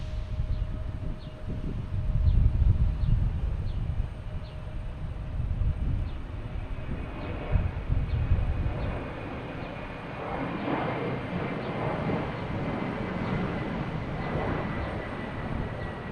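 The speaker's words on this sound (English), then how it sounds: "Next to take off will be an American, an Embraer 175" An American Embraer 175 airliner takes off at Logan Airport with a distant, low jet rumble that builds and then fades, faint and steady with no talk.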